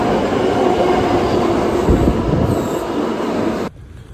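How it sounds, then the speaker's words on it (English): A subway train rumbles loudly and steadily with a faint high squeal of wheels partway through, then cuts off abruptly to near quiet at the end. "I'm gonna take the subway"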